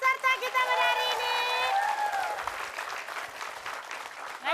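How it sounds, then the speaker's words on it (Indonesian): Studio audience applauding the contestants of a dance show, loud steady clapping with some crowd noise, opening under a speaking voice and continuing on its own. "Oke, tepuk tangan dulu untuk semua peserta kita pada hari ini."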